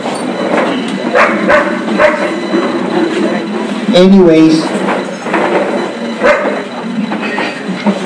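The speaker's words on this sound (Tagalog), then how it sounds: "Talagang nagtatahol naman ang aso sa kabila eh." A neighbour's dog barks next door in a few sharp yaps beneath someone speaking, the barks rising and falling in pitch against steady indoor background noise.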